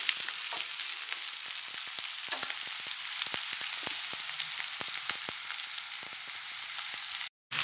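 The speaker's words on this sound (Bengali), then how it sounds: "তো ততক্ষণ পেঁয়াজটা আগে ভেজে নিই।" Onions frying in a pan for a prawn and elephant-foot yam dish, a dense steady sizzle with frequent sharp crackles and pops, close and loud, cutting off abruptly at the very end.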